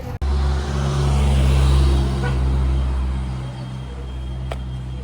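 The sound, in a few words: riding on a bus in El Salvador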